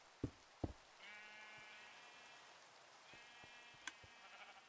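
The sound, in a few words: sheep bleating in video game Minecraft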